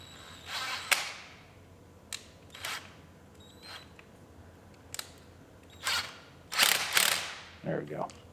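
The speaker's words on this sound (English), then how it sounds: "So we'll tighten up all of our clamps." Ratchet tightening radiator hose clamps on an Acura RDX engine build, quiet isolated bursts of rapid clicking separated by pauses, a couple of short sharp knocks between them, and a louder run near the end.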